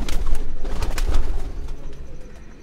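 A crossbred pigeon coos loudly and close by in a series of deep, throaty pulses that ease off slightly near the end, with no talking.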